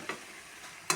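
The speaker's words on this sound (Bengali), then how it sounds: "জল দিয়ে ভালো করে কষিয়ে নেব" Jackfruit masala cooking in a pan with a little water gives a brief soft, steady sizzle, with two short scraping stirs at the start and end.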